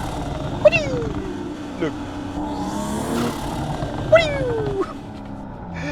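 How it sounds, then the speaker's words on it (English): A Stage 3 BMW M340i G21 with a Venturi intake revs hard in rising and falling sweeps with a whooshing intake note, loud and close, while a person briefly speaks. "this Venturi intake. So only for the sound I like it, but listen to this."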